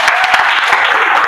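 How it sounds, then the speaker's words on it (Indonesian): Audience applause at an Indonesian university lecture session, a dense, steady clapping from a roomful of people that runs loud and even from start to finish. "Oke, berikan aplaus."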